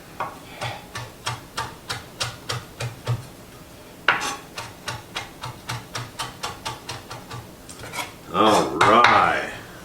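A knife mincing cilantro on a cutting board gives a run of crisp, evenly spaced chops, close and clear. A short pause comes before a faster second run, which ends in a brief scraping sweep across the board.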